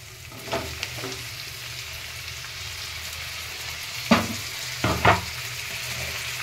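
Chopped tomatoes frying in a pan with spring onion and fenugreek leaves give a steady, even sizzle, broken by a few scraping stirs near the end.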